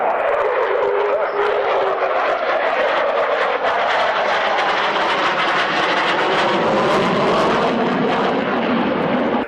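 An F-16 fighter jet flying at an airshow gives a loud, continuous roaring jet noise that slowly shifts in pitch as it passes, dominating the whole stretch.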